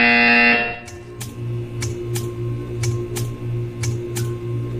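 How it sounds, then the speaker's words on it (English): A Portal 2 buzzer pulses about eight times at an even, steady rhythm, loud and close, after a sustained electronic tone cuts off, with a low mechanical hum underneath. "When you hear the buzzer, stare at the art."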